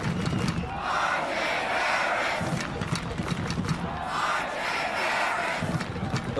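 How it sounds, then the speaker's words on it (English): Dense, roaring football crowd at a college game, Illinois State at New Hampshire, rhythmic chanting of senior wide receiver R.J. Harris's name swelling in waves, loud and continuous across the stands. "The R.J. Harris chants as he leaves the field."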